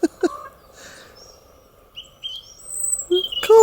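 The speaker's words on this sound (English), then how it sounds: "There's a crow up there." A crow calls in a snowy spring setting, giving a pair of short, fairly near caws at the start and another pair at the end, with thin higher bird chirps in between.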